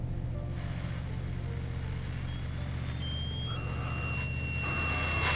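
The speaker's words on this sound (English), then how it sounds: "What the heck is that noise? A pulse tone." A steady electronic pulse tone beeps in a rapid regular rhythm over a constant low submarine engine hum, with a faint thin tone sweeping in and out.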